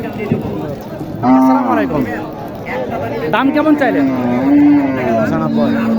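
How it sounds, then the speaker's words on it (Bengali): A crossbred desi cow, a seven-month pregnant heifer at a busy rural cattle market in Naogaon, gives long loud moos close by, with buyers and sellers talking over and around it. "এই যে এখানে একটা গরু দেখেন সাত মাসের গাভি"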